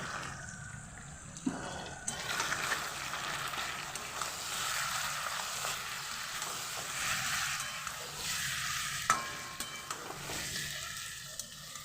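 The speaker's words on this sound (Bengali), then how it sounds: "ভালোভাবে নাড়াচাড়া করে নেব" Mutton is stirred in a pan with ground cumin, coriander, chili and turmeric for mutton kosha, a steady broad hiss of frying with occasional soft scrapes and knocks, close and alone.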